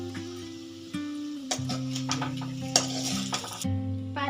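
Potato fry is stirred in a pan with a low sizzle under intermittent scraping and clinking of a spoon against the metal, close and moderately quiet.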